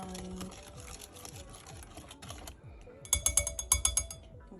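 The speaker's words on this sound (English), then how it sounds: "we're gonna keep whisking and get all that combined." A whisk beats Southern old-fashioned custard pie filling in a bowl with quick, steady clicking and scraping, which grows louder and sharper near the end.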